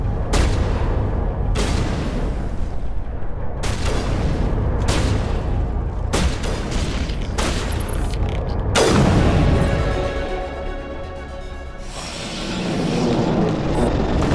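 Rifle fire in the game Mass Effect, a run of heavy booming shots spaced a second or two apart, each with a broad blast and rumbling tail, followed by a louder sustained explosive roar over a steady low drone.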